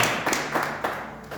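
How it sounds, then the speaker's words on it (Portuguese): A few scattered hand claps at a church service, sharp and close, spaced unevenly over a second or so against a quiet room hum. "aquelas palmas que glorificam Jesus"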